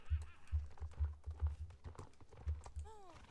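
Horses clip-clop in a stable in the Star Stable video game, a quiet run of hoof steps in an uneven rhythm, with a voice talking over them and a short whistling sweep near the end.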